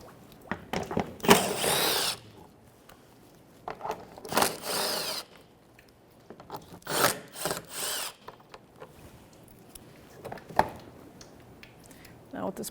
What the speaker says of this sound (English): 10mm socket. I'm going to go across it and take all the bolts out.